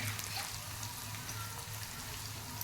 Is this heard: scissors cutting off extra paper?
no